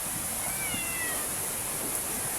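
A pet cat meows in a short, faint call over a steady hiss of background noise, with no one speaking.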